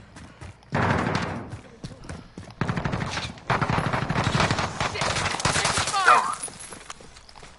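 Bursts of rapid automatic gunfire from an online shooter tournament match come in several loud, close volleys separated by short pauses, with a player's voice briefly audible among them.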